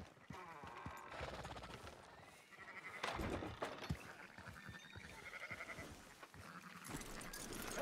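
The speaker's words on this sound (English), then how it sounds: "Fine sheep." Sheep bleat in Red Dead Redemption 2 on a farm area with goats nearby, several short cries scattered over quiet ambient game sound, fairly faint overall.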